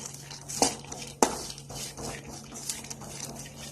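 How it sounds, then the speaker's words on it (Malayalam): A utensil stirs roasting coconut in a pan, scraping and clinking a few times, with sharp metallic taps over a low steady hum, no voices. "നന്നായിട്ട് ബ്രൗൺ കളർ ആവുന്ന ഒരു രീതിയിൽ വറുത്തെടുക്കാം"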